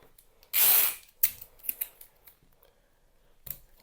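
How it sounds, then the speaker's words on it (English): Tape pulled from the roll and pressed down to secure a sheet of 12x12 acid-free cardstock: one loud, half-second tearing rip, then a scatter of softer crinkles and taps, with no talking. "I'm going to go around and tape the cardstock down"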